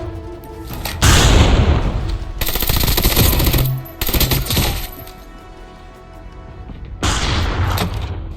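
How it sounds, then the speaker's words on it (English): Bursts of sniper gunfire echo through a Call of Duty Mobile battle royale match near a church, loud cracks in several clusters separated by short lulls, with no voices over them. "Now I'm getting back shots from another sniper near the church"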